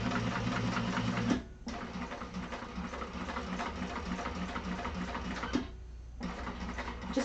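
A sewing machine stitching tape onto a bowler bag pocket, running steadily in a close, even mechanical whir that stops briefly twice before starting again.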